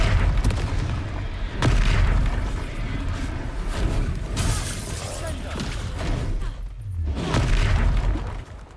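Confringo fire-spell blasts in a wizard video game: repeated booming bursts and crackling impacts amid combat, with game voices speaking over the loud, busy mix.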